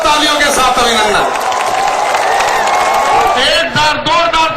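A large crowd at a Dussehra Ravan Dahan event in Dwarka applauds loudly to welcome PM Modi, a dense, continuous roar of clapping and cheering under an announcer's amplified voice.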